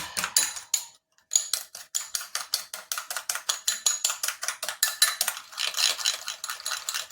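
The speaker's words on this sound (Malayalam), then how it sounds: "എന്നിട്ട് നമുക്കൊന്ന് നന്നായിട്ടൊന്ന് ബീറ്റ് ചെയ്ത് കൊടുക്കാം" Eggs are beaten briskly in a bowl, a fork clicking against the side in fast, steady rhythm after a brief pause.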